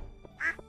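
A duck in a Stardew Valley farm gives one short, nasal quack, clear and close, with a faint game sound after it.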